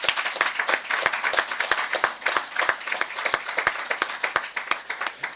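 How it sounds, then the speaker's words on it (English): Audience in a Mossel Bay municipal council meeting applauds a young award recipient, giving a close, rhythmic round of clapping with sharp individual claps standing out, steady throughout and without talk. "Can we give him a round of applause?"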